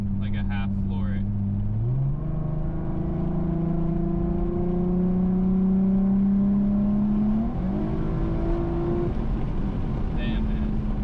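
An Infiniti Q50 with a loud custom exhaust is revved at about half throttle: a low idle rumble climbs sharply into a held, droning rev, then drops back to idle near the end.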